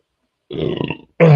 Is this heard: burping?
yes